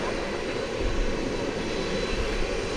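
A UPS Boeing 767 taxiing at Dallas/Fort Worth airport, bound for San Antonio: a steady, broadband jet engine roar holds at a moderate level throughout, with no voices.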